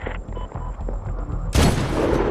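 Rocket launcher blasts and gunfire in the Medal of Honor video game: a run of short, punchy shots, then a loud, sustained roaring burst of noise from an explosive launch.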